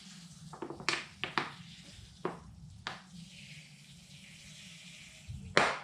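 Water poured onto loose soil in a bonsai pot, with a few short splashy bursts and trickles spaced through the moment and a larger splash near the end, fairly close and moderate in level.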